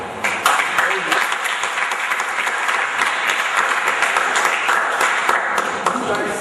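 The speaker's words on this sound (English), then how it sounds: "The round of applause we just gave is enough for what we go for." A seminar audience gives a round of applause, dense and loud clapping that holds steady for several seconds with no gaps.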